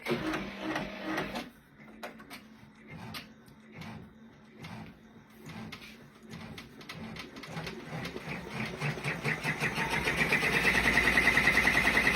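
Sewing machine tacking down fabric on a heart-shaped zipper pouch, a steady mechanical whir with rhythmic needle pulses that speeds into a louder, faster buzz near the end, with no talking.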